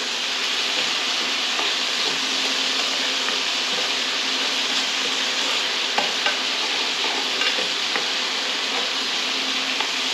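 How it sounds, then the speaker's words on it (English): Marinade ladled over a sous vide porterhouse steak in a hot pan, giving a loud, steady broadband sizzle that runs the whole time with small crackles and pops scattered through it, no voices. "You just want to ladle on that awesome marinade."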